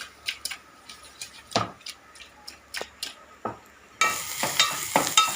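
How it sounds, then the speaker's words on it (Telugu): Potato pieces and ivy gourd are stirred in a pan, with sharp, irregular ticks and scrapes of a utensil up close over a low background, which thickens into a denser sizzling wash near the end. "బంగాళ ముక్కల్ని కిందకి పైకి అలా కదుపుకుంటుంది"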